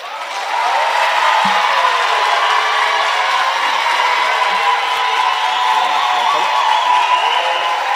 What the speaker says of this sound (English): So a round of applause for the first representative, Mr. Andrew Whitfield